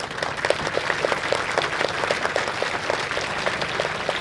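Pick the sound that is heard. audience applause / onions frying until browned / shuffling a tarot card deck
audience applause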